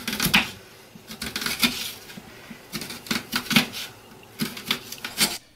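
Knife slicing onions very thinly on a cutting board during spaghetti prep, producing quick irregular bursts of sharp chopping taps close up, with short pauses between runs and no voices.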